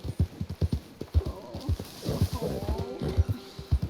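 Horse hooves clip-clopping at a steady walking rhythm in Red Dead Redemption 2, a slow Leopard Appaloosa heard close, with a brief whinny and a voice speaking over the middle.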